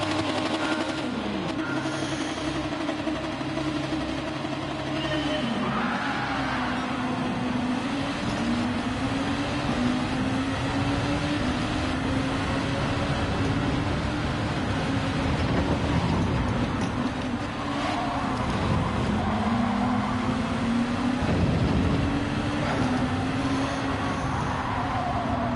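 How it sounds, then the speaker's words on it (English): Gr.2 race car engines in Gran Turismo 7 drone and whine continuously at a race start, pitch sweeping up and down as several cars rev through gears together, steady and fairly loud. "You can hear the engine notes rising to the top."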